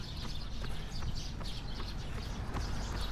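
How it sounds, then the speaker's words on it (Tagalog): Faint, scattered bird chirps sound outdoors on a morning run past outlet stores. They come as short, high calls over a low, steady background of ambient noise. "Narinig yung mga ibon."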